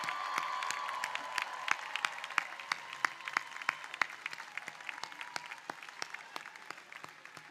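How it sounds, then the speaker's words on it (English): A crowd at a medical school commencement ceremony claps for the graduating class, sustained dense applause with sharp individual claps standing out, gradually tapering, with light cheering mixed in. "Let's give the class of 2023 one more big round of applause"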